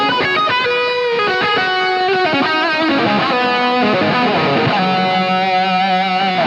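A distorted electric guitar plays a continuous riff through a Marshall amp, thick and saturated with reverb tails, loud and alone.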